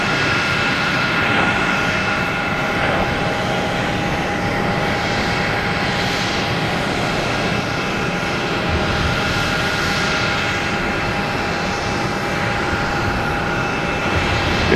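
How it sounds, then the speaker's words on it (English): A Cape Air plane takes off from Boston Logan Airport for Provincetown, its engines giving a steady, moderately loud drone with a faint high whine. No voices are heard. "Cape Air heading to Provincetown."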